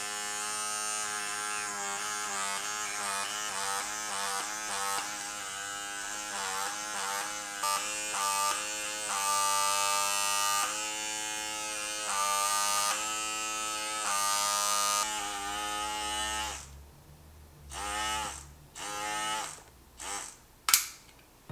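A small battery-powered suction gadget from a cheap online haul whines with a steady, harmonic-rich motor buzz for about sixteen seconds, close and fairly loud, then cuts out into a few short clicks and bumps of handling.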